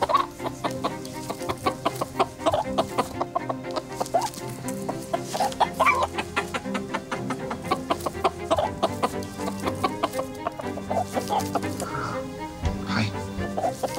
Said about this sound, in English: Konnichiwa, chicken-san.